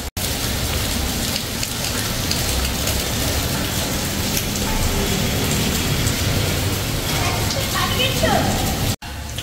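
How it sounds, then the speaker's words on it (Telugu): Heavy rain from Cyclone Montha pours steadily in a dense, loud hiss, unbroken for the whole stretch, with a brief cutout near the end. "వర్షం స్టార్ట్ అయింది"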